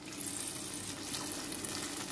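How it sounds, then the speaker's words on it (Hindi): About a cup of water goes into hot, fried spicy masala for a Bengali aar fish curry with potatoes, giving a steady broadband sizzle and gushing hiss that holds evenly throughout. "इस मसाले में मैं करीबन 1 कप पानी डाल दूंगी"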